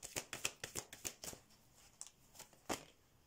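A tarot deck being shuffled by hand, a quick run of crisp riffling snaps close up that trails off into a few scattered card taps, with one sharp final snap near the end.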